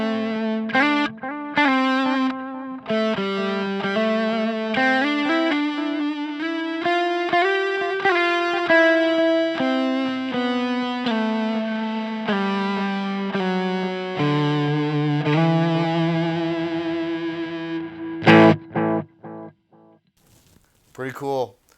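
Electric guitar through an EHX Nano Lumberjack overdrive pedal plays a melodic line with delay echoes trailing each note, steady and prominent, ending in a few choppy strums.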